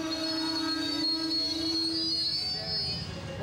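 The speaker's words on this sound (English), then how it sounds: "the train chugs in" A train pulls into a station, its wheels letting out a loud, sustained metallic squeal over a rumbling, rushing roar that slowly fades as it slows.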